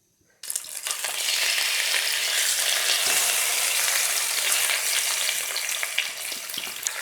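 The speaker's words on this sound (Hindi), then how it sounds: "थोड़ा सा गर्म हो जाए तो इसके बाद ये चिकन पीसेस इसके अंदर मैं ऐड करती हूँ।" Chicken pieces dropped into hot cooking oil in a cooking pot, setting off a sudden loud sizzle that holds as a steady close crackling hiss.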